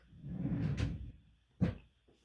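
A drawer packed full of collectible die-cast car cards slides along, then shuts with a short, sharp thud close by, followed by quiet.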